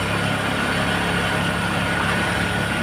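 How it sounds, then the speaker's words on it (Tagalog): A motorcycle engine running at a steady idle, a dense close rumble that stays even and loud throughout the short stretch, with no voices. "Gaano kalakas ang aking motor."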